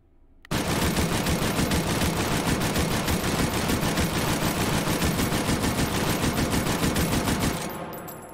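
A Lewis Gun machine gun in the VR game H3VR fires one long sustained automatic burst of about seven seconds, loud and close, with a rapid even cadence, then cuts off and leaves a brief fading tail.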